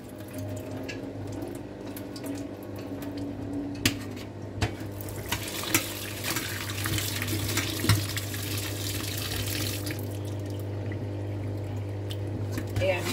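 Cooking water pours through a strainer in a home kitchen with a steady splashing rush, clinks of a pot and utensils, and a constant low electrical hum beneath.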